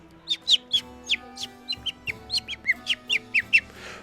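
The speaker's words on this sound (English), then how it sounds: "this chicken opens its wings and flies inside of the cage itself, making this chirping noise that you've never heard of" A chicken flutters inside a cage and gives a quick series of about fifteen sharp, high chirps in an uneven rhythm, close and clear with no talk.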